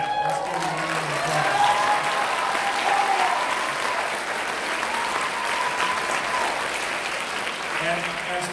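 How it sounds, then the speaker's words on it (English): A high school concert audience applauds a symphonic band, sustained loud clapping filling the hall, with voices murmuring and calling out underneath. "let's give them a round of applause."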